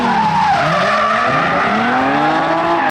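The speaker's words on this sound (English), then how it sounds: "What he was doing was drifting." Tires squeal long and loud as a car drifts through a corner, a continuous wavering screech with engine noise underneath that cuts off abruptly at the end.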